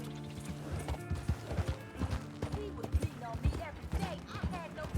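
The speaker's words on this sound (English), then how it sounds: "Now my horse is shitting." A horse in the video game Red Dead Redemption 2 with clopping hooves, snorts and whinnying bursts, close and uneven, while a person talks over it.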